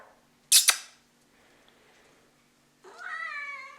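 Indoors, a cat lets out a short rising meow near the end after a pair of sharp clicking noises and a quiet pause, heard close by and on its own.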